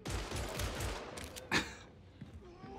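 Las pistol gunfire in Warhammer 40k Darktide, a game soundtrack of rapid shots and combat noise, with one sharp louder blast midway over a busy background.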